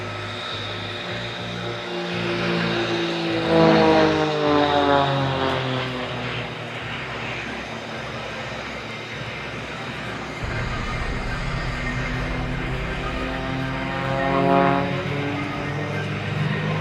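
Propeller aerobatic aircraft of the Starlings team flying a smoke-on display at the Farnborough International Airshow, a steady loud engine drone with rising and falling pitch as the planes pass, continuous throughout.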